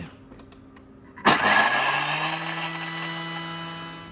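A food processor at top speed chops garlic, spring onion and chili padi, starting abruptly with a loud motor whir and clatter that settles into a steady high drone, close by.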